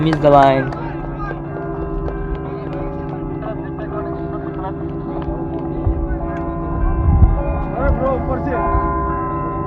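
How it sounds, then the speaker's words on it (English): A church bell rings with sustained humming tones on a sunny day during a live cricket match while a commentator talks over it. "we're hearing the church bell"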